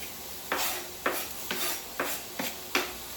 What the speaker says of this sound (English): go ahead and add that green bell pepper to your skillet